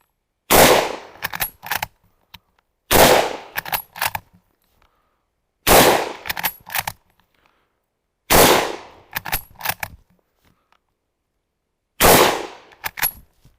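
A Portuguese Mauser-Vergueiro 1904/39 bolt-action rifle fires five sharp, loud shots about two to three seconds apart, each followed by quick metallic clicks of the bolt being worked.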